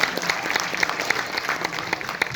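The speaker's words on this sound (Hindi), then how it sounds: "एक बार जोरदार तालियां बजा दीजिएगा" Audience applause at a live program in Mumbai, a lively burst of clapping with distinct sharp individual claps popping out above the crowd's continuous patter.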